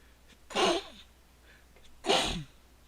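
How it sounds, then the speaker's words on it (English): Two loud sneezes, a second or so apart, close by with a quiet pause between them. "Hold on, I gotta sneeze for a minute."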